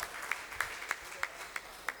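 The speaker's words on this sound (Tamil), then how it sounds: "உங்களுடைய உற்சாகமான ஒரு கைத்தட்டலோட" Audience clapping at a ceremony honouring an astrologer with a shawl and silver coin: faint, sparse claps landing at a slow, fairly even pace, about six in two seconds, over a quiet room.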